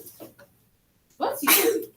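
A single sharp sneeze bursts out during a classroom math lesson, loud and close, after a moment of near silence and a few faint murmurs.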